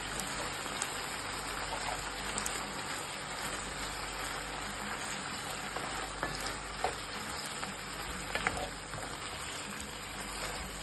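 Tomato paste and crushed garlic fry in a pan, a close, continuous sizzle with occasional pops and crackles and no talking.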